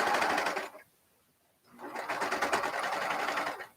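A sewing machine stitching through thick fabric layers, a loud steady whirring run that stops briefly before restarting and continuing evenly, with no talking.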